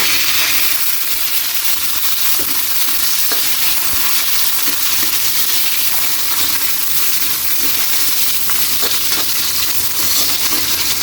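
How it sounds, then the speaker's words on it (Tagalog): Onion and garlic fry in a pan with lemongrass while being stirred, a steady close sizzle with scraping and clinks of the utensil running throughout, no voices. "Ilagay natin kaili ang ating sibuyas at bawang."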